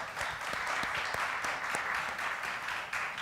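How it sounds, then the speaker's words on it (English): An audience at an in-conversation event claps. Individual sharp hand claps stand out within a soft, fairly distant patter of applause that holds steady throughout. "please give everybody a round of applause"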